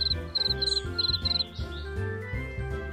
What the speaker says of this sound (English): Crickets chirp by rubbing their wings together,